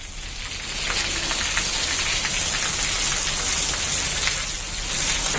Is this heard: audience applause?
no